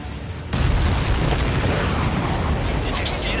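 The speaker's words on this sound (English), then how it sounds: "Did you see that explosion? Looks like that's one of them down." A missile strike blows up a supply ship in the flight combat game Ace Combat 7, a sudden loud boom that breaks in after a quiet moment and rolls on as a heavy, sustained rumble.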